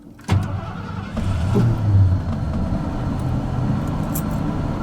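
An old Bullnose Ford truck engine cranks and catches at once, then settles into a steady, loud rumbling idle close by with no talking.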